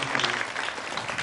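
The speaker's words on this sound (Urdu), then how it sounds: "بہت ساری تالیاں ہونی چاہیے شانزے کے لیے" Applause for a young girl named Shanze, who kept Ramadan fasts, from a live television studio audience during a Ramazan Sehar transmission: a steady, dense burst of clapping lasting about a second.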